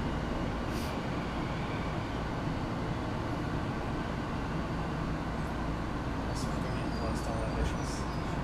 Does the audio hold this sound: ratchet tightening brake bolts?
no